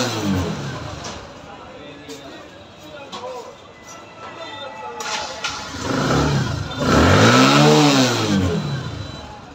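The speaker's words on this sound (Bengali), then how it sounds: "এই যে দেখেন গাড়ি আমরা স্টার্ট করতেছি, গাড়িটা কিন্তু এই যে ঘন ঘন বন্ধ হয়ে যাচ্ছিল" A Bajaj Discover 110 motorcycle with a fault that makes it stall repeatedly is being started; the engine turns over and revs up close by, rising then sagging in pitch, with a voice talking over it.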